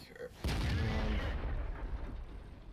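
Tank cannon fired in World of Tanks, from an M6 heavy tank: one deep, booming shot after a brief quiet lead-in, then a long rumbling decay with faint background noise.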